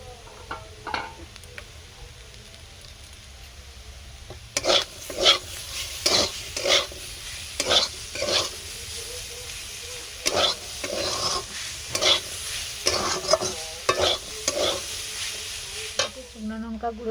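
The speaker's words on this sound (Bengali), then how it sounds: "ঢাকনা দেবো না, এইভাবে ভেজে নেব" Potatoes sizzle in a pan with onion paste. A quiet fry gives way to repeated, rhythmic stirring scrapes and clatters over a steady sizzle.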